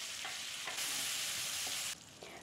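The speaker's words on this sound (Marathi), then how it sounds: "त्यात जिरे, मोहरी, हिंग, कढीपत्त्याची फोडणी करून त्यात टोमॅटो घालून परतून घ्यायचं आहे." Cumin, mustard seeds, asafoetida and curry leaves tempering in hot oil in a kadhai with tomato being sautéed, giving a fairly quiet but steady sizzle that swells louder in the middle, with stirring scrapes and no talking.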